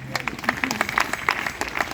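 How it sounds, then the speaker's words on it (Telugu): Clapping from a church congregation during a pastor's sermon, scattered and uneven hand claps at moderate distance, with a voice speaking over and between them. "చప్పట్లు కొట్టారు."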